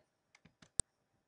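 A computer mouse clicks during work in restaurant point-of-sale software: three soft clicks, then one sharp, louder click, alone in a quiet room.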